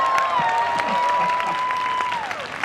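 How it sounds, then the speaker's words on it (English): An outdoor audience at an evening Shakespeare comedy claps steadily for about two and a half seconds, with a thin sustained whistle-like tone running through the applause before it slides away. "Let's give the weather a big round of applause, okay?"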